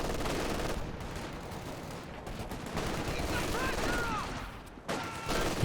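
Bursts of machine gun fire in the Company of Heroes 2 strategy game ring out amid dense battle noise with other gunfire and effects, loud and continuous, with a brief lull near the end.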